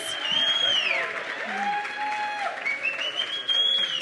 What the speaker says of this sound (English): let's give a round of applause to our amazing speakers and our community members